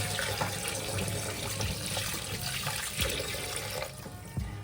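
Mutton trotters are washed under a running kitchen tap, with a steady gush of water and scattered splashes and clinks against the sink, close and moderately quiet.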